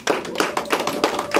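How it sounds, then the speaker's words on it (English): A small audience claps in bursts at a community celebration, sharp hand claps landing in quick clusters roughly every third of a second, close and fairly loud with no talk over them. "So give ourselves a round of applause here"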